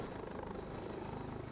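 A Lynx AH7 helicopter in the FlightGear flight simulator, its rotor producing a steady rapid thudding chop over a dense engine whine, loud and continuous throughout with no talking.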